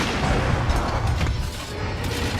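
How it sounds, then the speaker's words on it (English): Explosive gunlance shots and a wormstake blast booming in Monster Hunter World Iceborne, a dense, loud, continuous rumble of blasts and impacts with no talk. "load your slinger ammo into the gun lance for an explosive surprise in the form of a wormstake blast"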